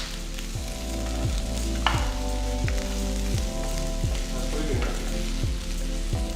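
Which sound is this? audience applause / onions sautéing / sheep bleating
onions sautéing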